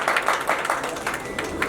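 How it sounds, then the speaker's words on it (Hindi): A crowd claps in steady, closely spaced bursts at a community felicitation ceremony honouring senior citizens, fairly loud and continuous throughout. "जोरदार तालियां।"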